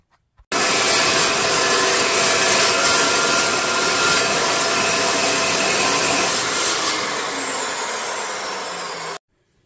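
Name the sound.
cold saw cutting metal pieces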